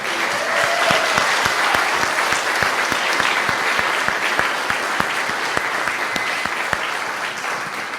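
A congregation claps steadily at a community worship service, a dense, even wash of applause with sharp individual claps throughout, no voices above it.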